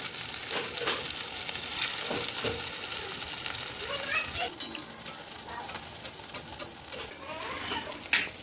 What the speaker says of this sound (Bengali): একটা একটা করে এবার ভেজে নেব